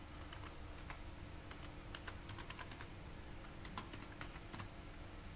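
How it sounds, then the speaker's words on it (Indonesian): Quiet, intermittent clicks from a computer keyboard as a disk conversion command is typed into a Windows installer, scattered keystrokes over a steady low background hum. "Kemudian kita ketikkan perintah convert"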